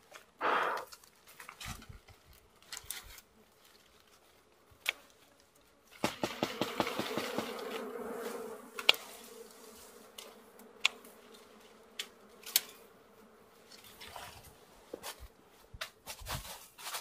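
Dwarf honey bees buzz faintly around their wild nest, a soft intermittent hum that swells louder for a few seconds, broken by scattered clicks and rustles of handling.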